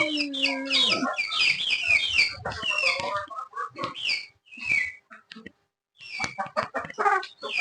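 A hen in a backyard flock clucks and calls in a run of close, bright, whistly notes, breaking off briefly before another burst of clucking.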